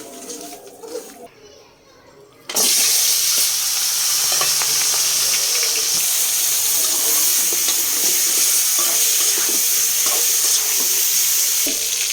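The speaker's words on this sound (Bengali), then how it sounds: "এখন আমি মুরগিটা ভেজে নেব" Chicken pieces go into hot oil in a kadai, and a loud, dense sizzle suddenly bursts in after a quieter start. It then carries on steadily to the end while voices sound in the background.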